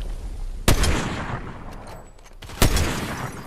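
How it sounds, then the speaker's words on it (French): Two loud gunshots in a video game, sharp and close, about two seconds apart, each followed by a ringing tail over steady background game noise. "une balle dans le crâne, il est mort lui"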